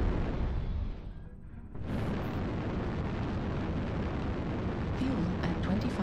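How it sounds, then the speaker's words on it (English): Artillery strike explosions in a video game: a dense, continuous roar of blasts fills the whole stretch, dipping briefly near the start before surging back loud and sustained. "Artillery strike online."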